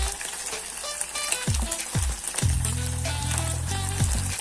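Bacon frying with catfish fillet in a pan, a steady crackling sizzle with repeated pops, while low descending tones sound beneath it.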